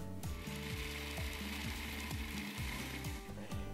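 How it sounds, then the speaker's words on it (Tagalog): A food processor whirs and churns through tilapia fillet, shrimp and carrots, its motor running steadily with repeated rhythmic mechanical ticking and grinding pulses, close and continuous without speech. "Paghaluin po natin sa food processor ang tilapia fillet at hipon"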